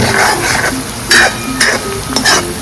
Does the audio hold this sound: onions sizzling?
yes